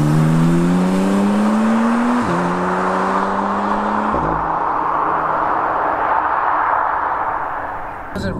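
A red Jaguar F-Type with a V6 engine accelerates hard, its loud engine note climbing through gears with quick drops at each shift, then settling into broadband road and tire roar as it cruises.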